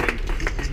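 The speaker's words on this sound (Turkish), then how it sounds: "Alkış." A short burst of clapping at an airsoft shop garage event: a few loose, uneven claps, fairly close, with a hum of room noise behind.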